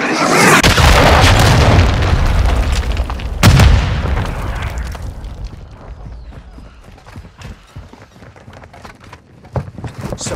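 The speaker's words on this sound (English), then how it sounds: "Hostile cruise missile incoming." Cruise missile blast in Call of Duty Modern Warfare 2: a loud, heavy explosion rumbles for several seconds, a second sharp bang hits mid-way, then fades into scattered clicks and small clattering sounds.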